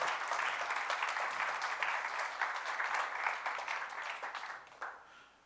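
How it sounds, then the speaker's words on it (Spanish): A church congregation claps together in a sustained round of applause at a steady level, fading slightly near the end. "Dale un aplauso al Señor."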